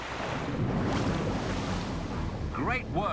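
Open ocean water in a cartoon rushes with a steady, broad wash of waves and wind, joined near the end by chirpy whistling calls.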